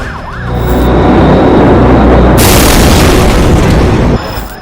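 A huge, roaring explosion blast in Beirut, Lebanon swells up loud and sustained for several seconds, then drops off into rumbling noise.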